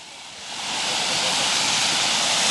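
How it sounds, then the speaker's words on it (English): A waterfall roars as a steady, broad rushing hiss that swells over the first second and then holds loud and constant, filling the outdoor scene on a sunny day. "Wow, this is fantastic waterfall."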